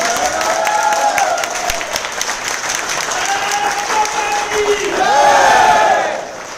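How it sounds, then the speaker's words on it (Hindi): An audience at a company meeting in a Mumbai head office bursts into loud applause and cheering that swells toward the end, with shouts mixed into the clapping. "एक बार जोरदार तालियां अपने आप को।"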